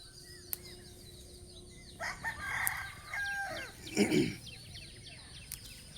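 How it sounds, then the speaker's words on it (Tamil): Farmyard chickens cluck in short bursts and a rooster gives a loud crow near the middle, moderately close, over faint outdoor background noise in a rural plant field. "இதோ வருது பாருங்க இந்த கோழிலாம்."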